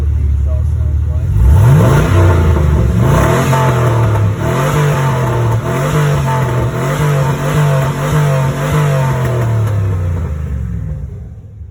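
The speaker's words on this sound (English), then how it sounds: "that exhaust is MagnaFlow exhaust" A 2006 Chevy truck with a 6.0 V8 and MagnaFlow exhaust idles with a loud, throaty rumble, then revs up sharply several times. Each blip rises and settles back to a deep burble, close by and loud.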